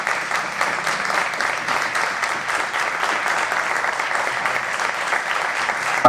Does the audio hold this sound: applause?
yes